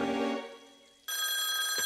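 Cartoon telephone bell ringing for a prank call, two bursts of loud, bright electronic ringing separated by a brief quieter moment, close and alone with no talk.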